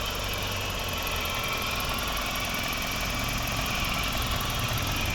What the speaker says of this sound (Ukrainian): Ось і робота двигуна.